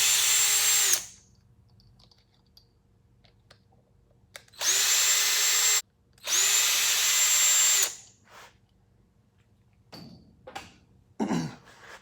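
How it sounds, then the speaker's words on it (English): A power drill whirs in three loud bursts as it drills out screws on the fuel pump setup of a 1988 NASCAR Buick, with quiet gaps between bursts and some handling clatter at the end. "So I'll drill these out real quick."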